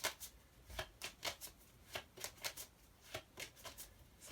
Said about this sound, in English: I'll get a notion and shuffle one more time.